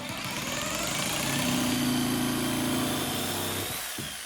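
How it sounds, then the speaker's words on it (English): A jigsaw cuts through an MDF board, a loud close buzzing motor whine with a steady rasping edge that swells and then winds down after about four seconds. "So I've got the jigsaw out,"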